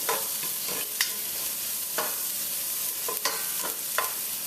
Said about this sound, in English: add the diced up garlic as well as the onion to the pot and give that a quick stir